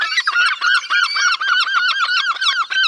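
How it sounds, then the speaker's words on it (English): A great black-backed gull calls from close by at a bird sanctuary, giving a rapid series of loud, honking, goose-like notes in a steady repeating rhythm. "I see the great black-back seagull."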